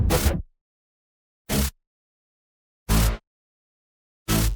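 Four short, punchy bass taps spaced evenly with silence between them, each a brief thump with a sharp attack, fairly loud and isolated.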